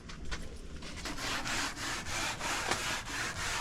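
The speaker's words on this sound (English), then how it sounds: "is using the bronze wool to extract all the varnish from the grain" Bronze wool scrubbing old varnish out of the wood grain of a countertop, producing rapid rhythmic rasping strokes, close and steady, with no talking.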